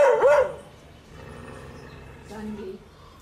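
Dogs barking at a cobra hiding in a flower pot, with one loud close bark at the start and fainter growling and yapping after it, while a person talks over them.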